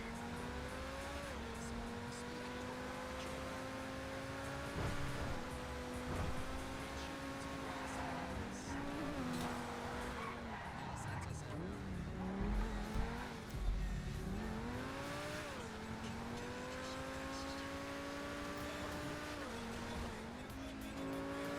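Car engine in GTA 5 Online droning steadily with rising and falling revs as gears shift, occasional tire squeal and bumps, loud and continuous throughout.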